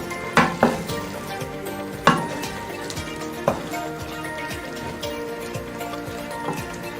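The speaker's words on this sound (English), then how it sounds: "And let it cook at medium heat." Chicken pilau simmering at medium heat in a pot after water is added, giving a steady low sizzle and bubble with a few sharp clinks of a spoon or lid early on, fairly close and without talk.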